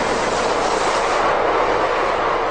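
A Spanish commuter train (cercanías) runs past with a loud, steady, close rushing roar that holds at the same level throughout, with no talking.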